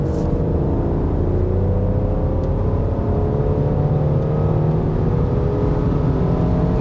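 A Mercedes C400 Cabriolet accelerates from around 80 km/h in traffic, its engine giving a steady, loud droning rise with road rumble heard from inside the car, no talk over it.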